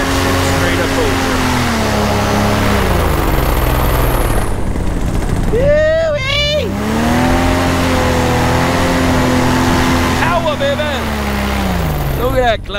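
A paramotor engine at full throttle on a climb, a loud close buzzing drone whose pitch sweeps down and back up twice as the throttle is worked.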